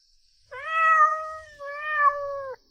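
A person's voice imitates a cat late at night in a general's mansion, giving two drawn-out, tonal meows in close succession, close and fairly loud, with nothing else around them.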